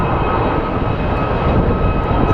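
Air Canada Rouge airliner's jet engines at Phoenix Sky Harbor airport, a loud, steady broadband roar with a faint whine held constant throughout, close and unbroken.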